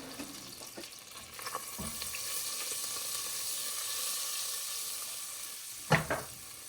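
Turmeric being stirred into a sizzling pan of food, a steady frying hiss with scraping stir strokes, ending in a louder clatter near the end.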